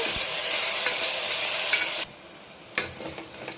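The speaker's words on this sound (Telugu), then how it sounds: "అల్లం వెల్లుల్లి పేస్ట్ పచ్చి వాసన పోయిందాక వేయించుకున్నాము" Ginger garlic paste frying in oil for gongura mutton: a loud, dense sizzle with stirring scrapes, which drops away abruptly before a few quieter stirs.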